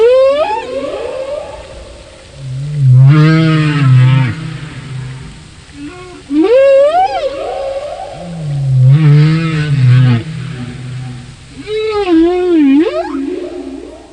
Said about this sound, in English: Do you know, these huge whales are expert singers.